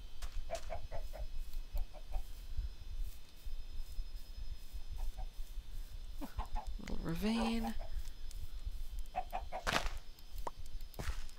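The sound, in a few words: chickens clucking in the video game Minecraft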